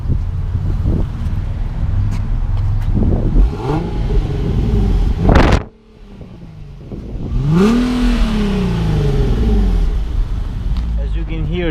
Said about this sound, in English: let's check out the exhaust on this car